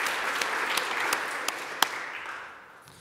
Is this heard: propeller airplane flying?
no